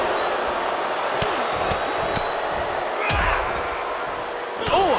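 Knife-edge chops in a wrestling match, landing as several sharp, slapping smacks spaced through the clip over a steady roar of crowd noise.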